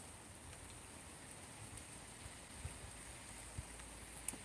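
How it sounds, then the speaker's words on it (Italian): Rain falls at night in Salerno as a faint, steady hiss with a few soft drop ticks, with no voices. "Piove da ieri, proprio una giornataccia proprio di quelle da dimenticare proprio."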